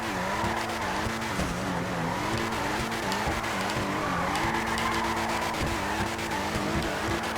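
An Ubermacht Zion Classic, slammed low, drifts through figure eights in GTA Online, its tires squealing continuously with a wavering pitch over a steady engine note, loud and close for the whole stretch.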